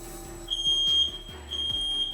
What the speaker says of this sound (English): We set off the fire alarm.